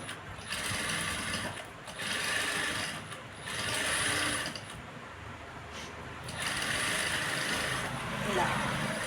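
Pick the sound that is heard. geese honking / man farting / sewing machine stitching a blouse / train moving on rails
sewing machine stitching a blouse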